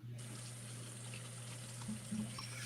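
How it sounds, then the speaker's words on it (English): Water runs steadily from a tap, a constant hissing gush with a low hum beneath it, close by and unbroken from start to end, with no talking. "Sounds like somebody's running water."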